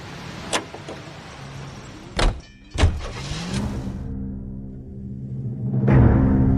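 Car sounds from the video game L.A. Noire: a door thunks shut twice, then a steady engine hum builds and holds, rising toward the end as the vehicle pulls away, with no talk over it.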